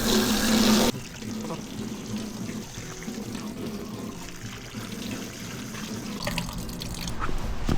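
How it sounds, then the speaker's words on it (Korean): Groundwater poured out at a rainy seaside pine forest campsite, a steady splashing trickle of water running for several seconds after a brief louder burst at the start. "물만 뿌릴게요 이 물은 지하수입니다"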